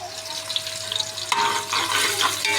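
Onions for korma browning in a pan give a soft sizzle that suddenly swells into louder, denser frying and crackling partway through, close by.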